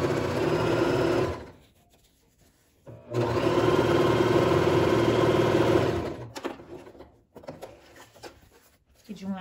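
A sewing machine stitches fabric along the sides in two loud sustained runs, separated by a short pause, followed by softer handling noises.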